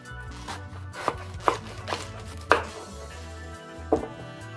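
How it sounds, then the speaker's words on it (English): A knife cuts cabbage on a board with a handful of separate sharp thuds and crunchy slicing strokes at an uneven pace, close and alone, no voices. "We are done with our cabbage slicing or cutting."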